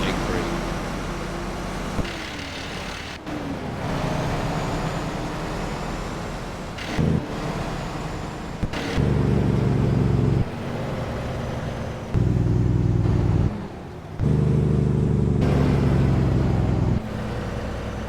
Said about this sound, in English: I'm floating through my gears with the jake brake